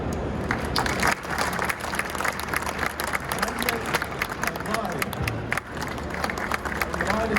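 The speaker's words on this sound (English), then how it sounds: "please join me in giving them a round of applause for our 4 students" Audience applause at a scholarship awards ceremony for four students: dense, steady clapping from a large crowd that carries through the whole stretch at full strength, with some voices and murmuring mixed in.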